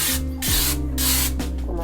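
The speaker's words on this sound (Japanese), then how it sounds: "ラバーチッピングっていうスプレー。" Rubber chipping spray hissing from an aerosol can during van conversion work, three loud broadband bursts with short pauses between, over a low steady background hum.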